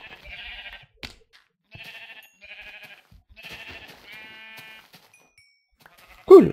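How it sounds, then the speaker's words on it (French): Video game sheep bleat in a series of short, nasal cries with quiet pauses between them, ending on a louder, closer bleat. "Ils ont l'air abrutis les moutons."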